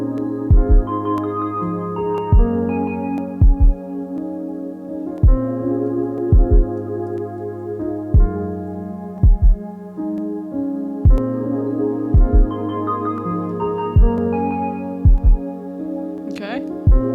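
Soft hip hop kick drum beat with sparse, heartbeat-like double thumps recurring steadily over a sustained melodic synth and bass bed, loud and upfront throughout.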